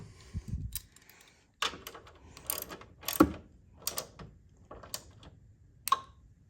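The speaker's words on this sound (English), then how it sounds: "put the nut right back over top of it. And just tighten her down." A nut on the hood strut bracket of a Hyundai Elantra N is tightened with a ratcheting tool. Uneven bursts of crisp mechanical clicking repeat up close with short pauses between.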